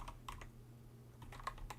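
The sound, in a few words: typing on Kinesis Advantage 360 keyboard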